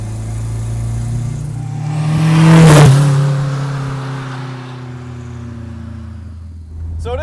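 A home-built turbocharged Toyota Celica holds a two-step launch control rev, the engine swelling to a loud crackling peak around the middle before settling back to a steady drone, close and without talk.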